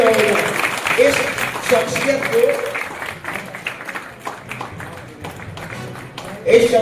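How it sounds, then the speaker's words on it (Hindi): An audience at a Hindi-speaking public gathering claps loudly at first, then the applause thins into scattered claps and fades, with a voice speaking over it. "जोर से तालियां होंगे"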